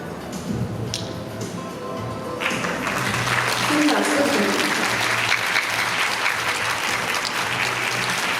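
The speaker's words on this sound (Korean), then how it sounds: "나오실 때 큰 박수 부탁드립니다" Audience applause at a choir festival and competition, starting as scattered taps and building into loud sustained clapping after a couple of seconds, with faint talk at the start.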